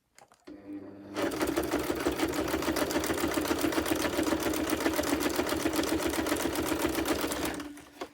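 A sewing machine that seems to be malfunctioning stitches journal cards in a fast, even mechanical rattle for about six seconds, starting after a brief pause and stopping abruptly, close and fairly loud.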